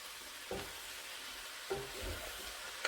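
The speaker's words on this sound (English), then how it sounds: "Can you see what I'm stirring around in this pot?" Sausage, cabbage, potatoes and corn are stirred in a soup pot, a soft sizzle underneath with a few quiet scrapes and clunks of the spoon against the pot.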